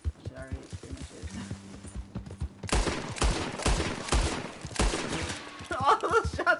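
Gunfire in Red Dead Redemption 2 rings out in a burst of sharp, repeated shots mixed with horse hoof clip-clop, set against game sounds and a voice talking.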